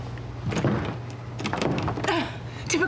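A stuck motel room door being tried, with rattling, knocking and scraping as the handle is worked and the door pushed, several close, uneven bursts over a low steady hum.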